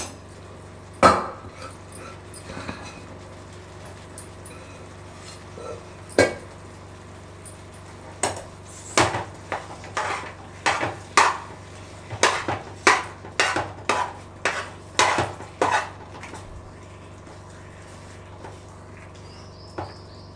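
Sweet lentil filling for bobbatlu is stirred in a pan, sharp metallic spoon scrapes and knocks coming in irregular bursts, sparse at first and then quicker, over a quiet background.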